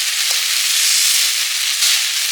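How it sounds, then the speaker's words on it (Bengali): Water spinach (kalmi shak) frying in a pan, a steady broadband sizzle that holds loud and even throughout, with a couple of faint soft knocks and no voices. "কলমি শাকের ভাজা এবারে করব"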